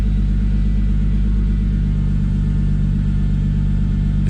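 Toyota MK3 Supra with a turbocharged 3-liter 7MGTE straight-six idling in a steady deep rumble, a constant low throb that stays close and even throughout, with no voices.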